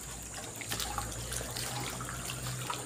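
Water runs and trickles steadily inside an abandoned chapel at night, a continuous splashing flow with a low hum underneath and no voices.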